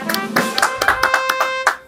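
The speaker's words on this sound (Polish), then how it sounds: "Wielkie brawa." A few sharp hand claps ring out close by in a home setting over a sustained tone, a quick irregular burst of about ten claps ending abruptly.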